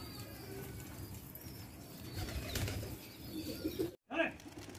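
A domestic racing pigeon beats its wings in a rooftop loft, a brief flurry of flaps near the end after a stretch of soft ambient noise, fairly quiet and unaccompanied by speech.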